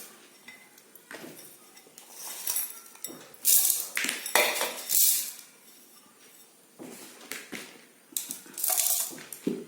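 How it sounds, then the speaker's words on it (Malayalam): Ingredients for a homemade cough remedy tumble into a mixer grinder jar in a series of clinks and rattles, with louder bursts of clattering around the middle and again toward the end. "ഇനി നമുക്ക് ഇതെല്ലാം കൂടി മിക്സിയിലേക്ക് ഇടാം"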